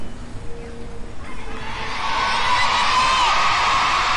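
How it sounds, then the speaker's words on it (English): French spectators cheering at a European gymnastics championship, the crowd noise swelling from quiet murmur into sustained loud cheering and whoops in the second half. "You hear the French cheering in the background."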